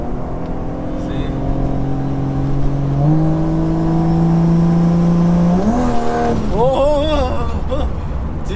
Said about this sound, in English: I only put my foot down slowly, but the minute you put your foot down a bit quicker, it changes gear fast.